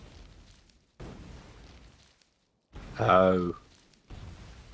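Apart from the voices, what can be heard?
grenade explosions blowing up trees in Factorio, a video game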